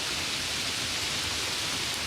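Steady rain pours as a sound effect in an animated bird story, a dense, even hiss with no voices over it.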